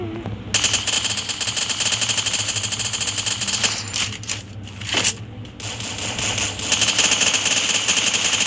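Rapid M80 rifle gunfire in a video game, landing a headshot: dense, fairly loud shots rattle almost continuously, with a brief dip in the middle before the firing picks up again.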